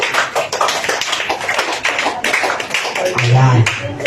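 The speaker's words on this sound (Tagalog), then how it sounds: "Palakpak ng malakas na dahan-dahan." Slow, loud clapping from a church congregation during a Lenten healing service, a steady run of sharp claps over about four seconds with background voices mixed in.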